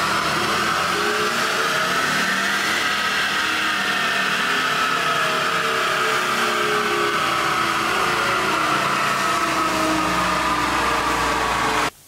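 A classic car engine, a 1.8-litre with 300,000 km on it, runs at full throttle on a dynamometer, giving a loud, sustained roar that climbs steadily in pitch before cutting off abruptly at the end.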